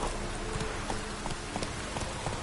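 Hooves of the horse Roach from The Witcher 3, a rapid clip-clop gallop of regular hoofbeats over a dense, noisy game soundscape.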